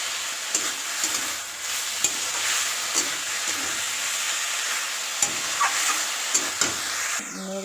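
Greens frying with ginger paste are stirred in a pan, giving a continuous bright sizzle and hiss broken by sharp taps of the spoon against the metal, close and loud with no speech.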